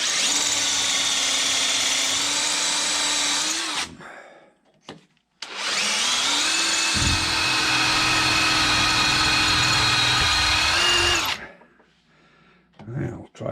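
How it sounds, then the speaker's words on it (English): Power drill whirring into a Farmall Super C engine part during a rebuild, two loud sustained bursts of about four and six seconds with a short pause between, close and without talk. "Now we'll see here if we can drill this in a little ways"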